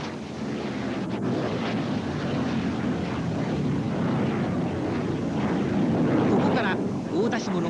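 Blue Impulse jet aircraft flying an aerobatic display, a steady broad roar that holds loud and constant throughout, with wind buffeting the microphone and no clear talk.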